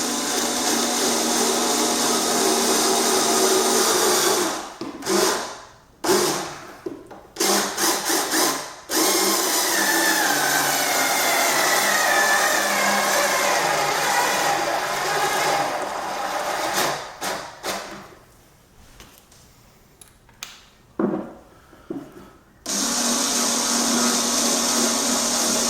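A power drill or driver whirs loudly as screws go into an IKEA Kallax 2x4 cube shelving unit, running in long stretches broken by brief stops and short bursts of revving.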